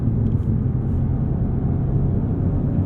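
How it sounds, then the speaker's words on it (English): Loud, steady tire and road roar fills the cabin of a 2022 Hyundai Veloster N hot hatch while driving, a constant low rumble with no break. "These tires are loud. It's also the road."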